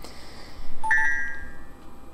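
A bonus bell rung in the Sonic Generations video game gives a short bright electronic chime, with a few clear ringing tones near the middle over a soft game background.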